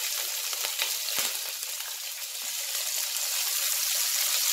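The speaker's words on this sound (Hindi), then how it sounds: "शिमला मिर्च को भूनेंगे।" Capsicum frying in hot oil with cumin, giving a steady bright sizzle with light crackling throughout, fairly close and unbroken.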